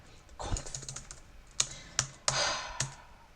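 Bursts of typing on a computer keyboard while entering git commands, quick clustered key clicks followed by a few sharper, louder strokes with short pauses between.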